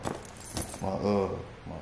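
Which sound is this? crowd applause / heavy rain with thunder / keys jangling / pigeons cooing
keys jangling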